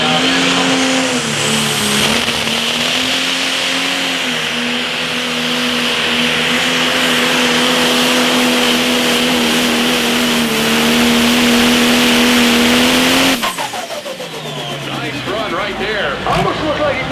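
A pro stock pulling tractor engine at a Hillsboro tractor pull roars loud and steady at high revs for about thirteen seconds, then cuts off abruptly, leaving a quieter idle and crowd noise.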